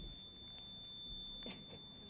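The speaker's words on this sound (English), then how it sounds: "It's got a buzzer now." A buzzer in a council meeting room holds a thin, steady high tone, faint and continuous beneath quiet room noise.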